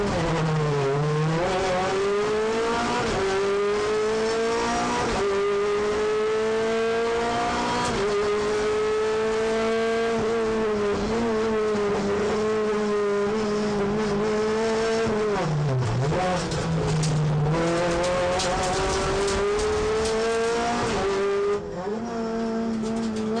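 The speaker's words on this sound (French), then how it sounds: "Un départ que l'on vit de l'intérieur avec Michel Marvy." Onboard a Renault Clio Cup race car at a race start, the engine howls loud and near as it revs through the gears, pitch climbing and dropping at each shift, with the tyres squealing at times.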